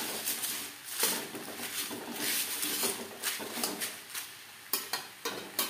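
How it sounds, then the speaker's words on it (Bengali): Pieces of bay leaf frying in a hot wok after the flame is turned off, a soft crackling sizzle under repeated scraping and tapping from a spatula, close and moderately loud. "কড়াই যে গরম আছে তাতেই তেজপাতা ভাজা হয়ে যাবে।"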